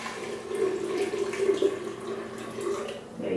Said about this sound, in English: And I'm going to pour this into my blender.